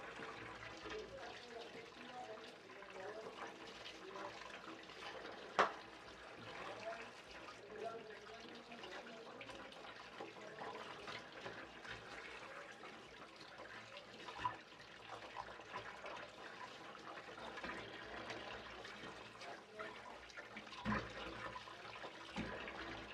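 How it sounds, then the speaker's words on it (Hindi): Bottle gourd being washed under running tap water: a steady, broadband stream of splashing water lasting over twenty seconds, with occasional knocks and clatters as the vegetable is handled. "अब इस घिया को चलते पानी में वॉश करेंगे"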